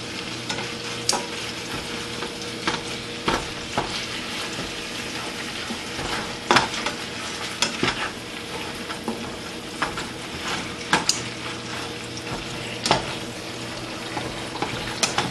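Meat for Philly cheesesteaks browns in a pan with a steady, close sizzle and frying crackle, broken by scraping stirs and occasional clinks of a utensil against the pan.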